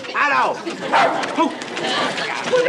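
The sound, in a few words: dogs barking in a jeep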